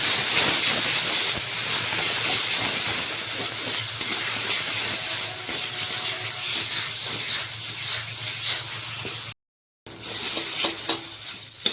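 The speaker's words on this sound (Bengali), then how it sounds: "এখন ভালো করে মশলাটা ভেজে নেব" A ground spice paste with a little salt fries in a pan, a close, steady hissing sizzle with soft stirring scrapes that carries on throughout, cut by a brief silent gap near the end before resuming.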